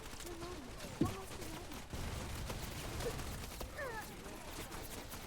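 Gunfire in the shooter game Wild Assault crackles continuously under busy game noise, with one sharper crack about a second in and voices talking over the fight.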